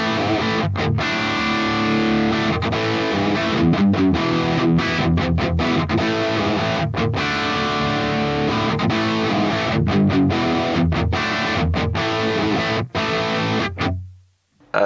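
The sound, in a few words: driven guitar tone from Fractal Mars Silver amp model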